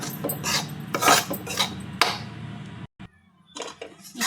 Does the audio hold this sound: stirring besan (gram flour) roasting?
yes